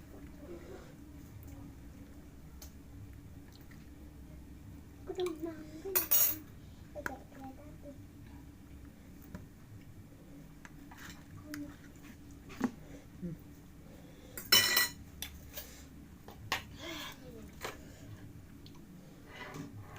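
Spoons and dishes are handled in a home kitchen during pempek cooking, with a few scattered, crisp metallic clinks and clatters against a quiet background and occasional talk.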